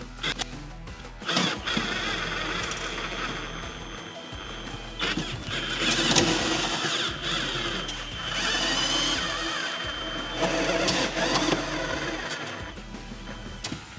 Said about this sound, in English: I'm going to speed it up by using a power drill with a screwdriver bit